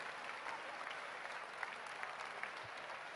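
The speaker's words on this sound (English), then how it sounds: "Round of applause for Thomas" A live event audience applauds a prize winner at a Samsung gathering, a steady wash of clapping that holds evenly throughout at moderate distance with no break.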